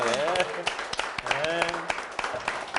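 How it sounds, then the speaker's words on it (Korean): Audience applause at a live talk show with a magician, rising as a steady patter of claps beneath a presenter's talking voice throughout. "박수 좀 쳐주세요."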